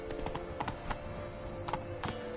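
Roach, the horse in The Witcher 3: Wild Hunt on PlayStation 5, gallops in a steady clip-clop of hooves, close and fairly soft, with a faint whinny.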